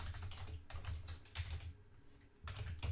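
Code is typed on a computer keyboard in short bursts of quick key clicks broken by brief pauses, close and fairly soft, with no voices.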